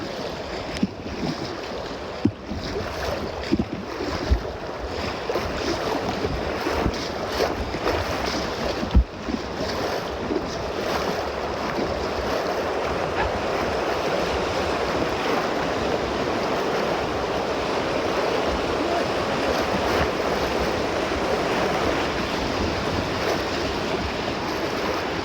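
A boat is paddled through rocky river water, with continuous loud rushing water and splashing close by, broken by occasional knocks and thuds over about twenty-five seconds.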